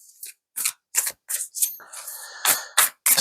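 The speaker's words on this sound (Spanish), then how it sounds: "vamos a barajar un rato más y ya comenzamos" A deck of oracle cards being shuffled by hand, giving a close series of about eight crisp riffling bursts with short gaps between them.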